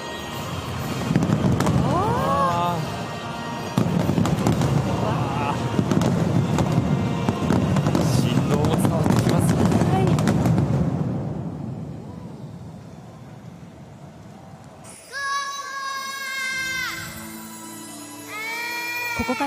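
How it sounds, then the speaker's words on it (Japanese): Booming fireworks crackle and pop continuously for several seconds at the Beijing Paralympics opening ceremony, then fade; afterward come high, wavering bleat-like tones. "最初には紫色の雪の結晶の花火も上がっていましたね。"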